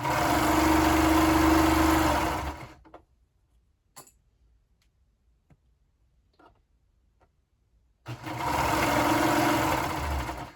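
An overlocking serger stitches a knit neckband, running loud and steady with a dense mechanical whir for almost three seconds, then goes quiet apart from faint clicks and ticks before the machine starts up again near eight seconds and runs on.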